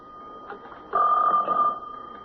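A special telephone rings in a 1977 radio mystery drama, with one loud steady bell-like ring in the middle of the clip and quieter room tone before and after.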